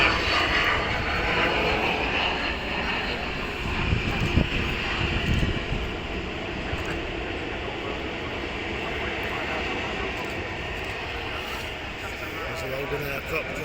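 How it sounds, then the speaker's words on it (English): A passenger jet taking off at Manchester Airport, a sustained loud engine roar and rumble heard from a distance, steady throughout, with a person talking at times. "And there's one that's just taken off."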